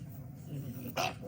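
A dog gives a short sharp bark with a whimpering edge, close and fairly faint over background noise, a single brief outburst.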